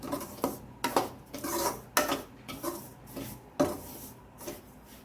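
Sugar stirred into dry semolina for ravva coconut laddu, a spoon scraping and rasping against the bowl in uneven strokes with a few sharper knocks, close and alone.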